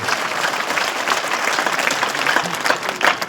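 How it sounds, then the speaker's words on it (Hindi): A crowd claps at a political rally in India, loud and close, a dense continuous burst of applause with a few faint voices mixed into it. "सोनकल के लिए एक बार दोनों हाथ ऊपर करके तालियां बजा दीजिए।"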